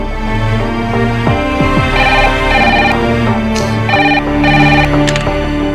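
A telephone rings loudly and repeatedly in a steady electronic pattern, with music or other tones mixed underneath.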